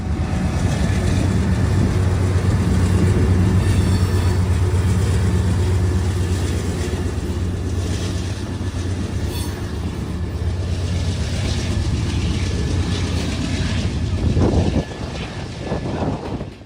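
A Norfolk Southern freight train, the 123, passes with a distributed-power locomotive unit, its deep steady engine drone and rolling rumble continuous and fairly loud before tailing off near the end.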